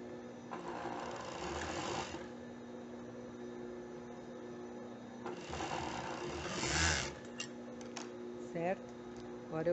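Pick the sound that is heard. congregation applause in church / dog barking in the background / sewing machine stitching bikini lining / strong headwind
sewing machine stitching bikini lining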